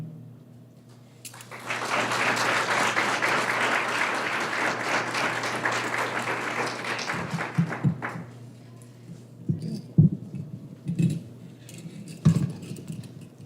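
Audience applause at a high school board of education meeting, a sustained burst of clapping from a roomful of people that runs for several seconds, then thins out into scattered claps and small room noises.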